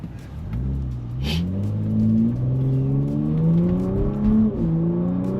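A Bentley Bentayga Speed W12 in sport mode with its exhaust valves open, revving through several rising gear pulls with a deep, throaty exhaust note, close and loud, with a sharp pop between shifts.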